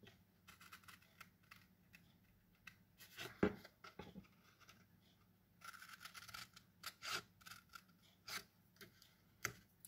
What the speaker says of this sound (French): On fait pareil ici, on coupe en biais.